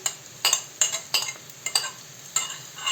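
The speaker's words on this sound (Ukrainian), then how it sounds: "Морква наша вже підсмажилася." Grated carrots fry with onion and bay leaf in a pan for mushroom soup. A utensil stirs them in sharp, repeated scrapes over a soft, steady sizzle, close by and with no talking.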